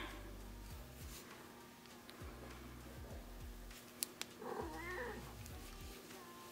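A pet cat meows softly a few times near the end while crochet work goes on in a quiet room, with faint ticking and rustling throughout and no talking.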